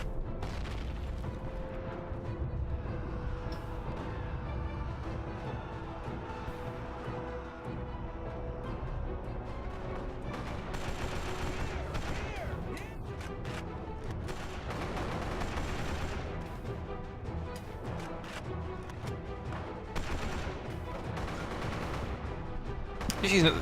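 Video game battle gunfire, including BAR rifle fire, crackles in continuous bursts with mechanical clatter over a dense, steady din throughout.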